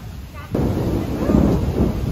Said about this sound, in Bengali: ও মা, জোরে জোরে বিদ্যুৎ চমকাচ্ছে এবার।